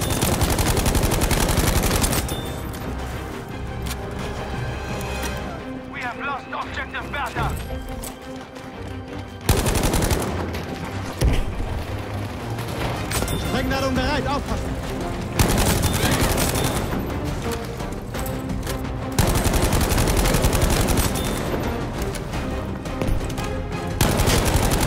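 Sustained automatic fire from a Sturmgewehr 1-5 rifle in the Battlefield 5 video game rattles in loud, dense bursts with short pauses between them. Explosions and other battle noise sound underneath.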